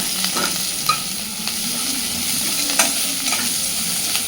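Raw onions stirred and mixed in a hot pan, giving a steady close sizzle with soft scrapes and a few light clinks of the spoon, no voices.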